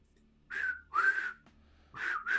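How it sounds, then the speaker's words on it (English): Someone whistles a few short, breathy notes in quick bursts, close and fairly soft, with pauses between them. "I'm not good at whistling."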